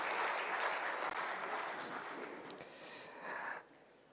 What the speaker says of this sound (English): Please, another round of applause to the Dean of the Diplomatic Corps.